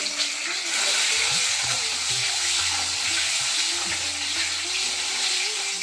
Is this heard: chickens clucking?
no